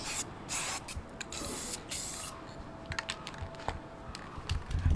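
Glittery engine enamel paint sprayed from a can, heard as a run of short, close hissing bursts with brief pauses between them and a few light clicks near the end.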